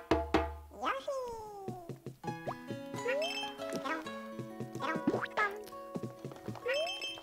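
Cat meows from the video game Yoshi's Crafted World, several rising cartoonish calls set among game thuds, boings and jingly music, with a voice talking over parts of it.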